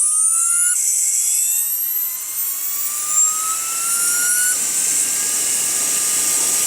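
A homemade brushless (BLDC) motor running on 14.8V gives a high-pitched electric whine rising steadily in pitch as it spins up, loud and continuous with a bright, drill-like tone.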